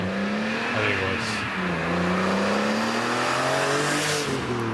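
A BMW E46 M3 with its S54 engine and Supersprint exhaust drones and revs with a low, deep tone, pitch rising and falling through gear changes, loud and steady from nearby.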